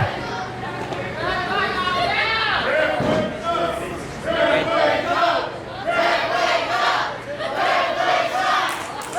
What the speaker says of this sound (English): The crowd trying to get the ref back into this match.